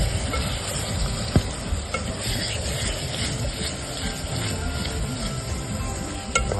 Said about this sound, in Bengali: মিক্স করে কষাবো এটাকে।